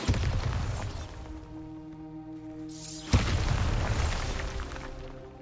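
A Bombarda spell explodes in a Hogwarts wizarding video game, a sharp booming blast near the three-second mark followed by a loud crackling, rumbling tail over steady game ambience.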